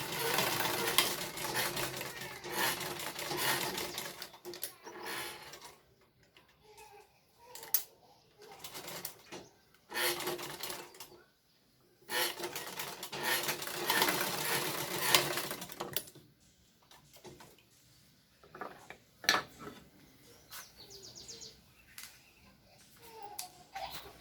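Sewing machine stitching fabric, close and tight seams, running in bursts of several seconds with pauses between, moderately loud and close, with quieter handling sounds in the gaps.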